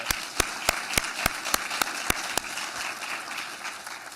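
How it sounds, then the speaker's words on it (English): Scattered audience applause at a regional health and human services event, with a series of sharp, evenly spaced claps standing out over a steady wash of hand clapping that fades toward the end. "Please give yourself a round of applause for that."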